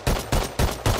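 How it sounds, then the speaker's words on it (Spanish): Automatic gunfire from a newly added weapon in the video game Rust, fired in four quick, evenly spaced bursts that are loud and close with sharp cracks and a low boom. "me gusta el sonidito que tiene al disparar"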